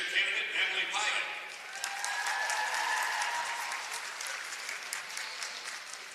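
An audience applauds in a sustained wash of clapping at a high school girls basketball game, fairly distant and steady, fading slightly toward the end.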